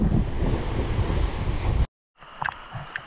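Loud, steady rushing surf with wind buffeting the microphone, then a sudden cut to a quieter stretch with faint sounds.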